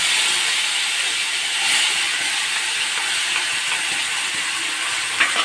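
Paste of onion and dried red chilli hits hot leftover oil in a wok, giving a steady, loud sizzle that runs unbroken throughout, with no talk over it.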